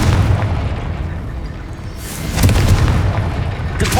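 A Confringo spell explosion in Hogwarts Legacy, a loud booming blast that swells, fades and is followed by another burst, with game sounds rumbling throughout.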